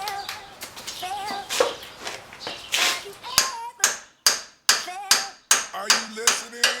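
Sharp metallic hammer strikes on a ball joint separator wedged into the upper control arm of a Cadillac Escalade, a series of spaced blows growing more regular toward the end, close and loud, with voices talking early on.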